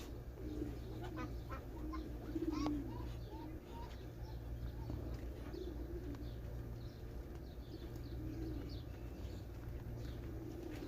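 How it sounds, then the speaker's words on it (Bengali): Pigeons coo softly amid a busy, murmuring crowd at a market selling birds, with Chinese ducks nearby and other birds calling now and then over a steady low hum. "এখানে দেখতেছি যে অনেকগুলো কবুতর"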